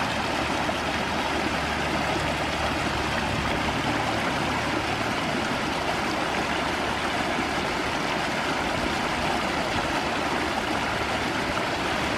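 A small side stream flows steadily with a constant broadband rush and gurgle, close by and unbroken throughout, with no voices, in Monte Sano Nature Preserve, Alabama.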